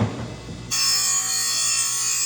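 Grinder sharpening a lawn mower blade: after a brief low rumble it bites into the metal with a loud, steady, sustained high grinding hiss, close up and uninterrupted for well over a second.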